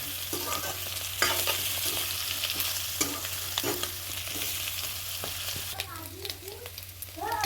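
Pork fries in its own rendered fat with a constant sizzle and repeated scraping and clattering of a stirring utensil in the pan, close up and moderately loud, with faint background murmurs.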